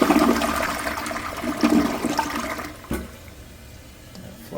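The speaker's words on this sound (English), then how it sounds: "Flush nicely" A toilet flushes in a strong rushing surge that drains away, then quiets to a soft refilling trickle near the end.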